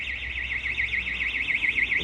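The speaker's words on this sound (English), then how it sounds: "nice timing for the alarm to go off" An electronic alarm warbles continuously outdoors during urban tree planting in Walkley, Sheffield, a loud steady rising-and-falling siren tone with no talk over it.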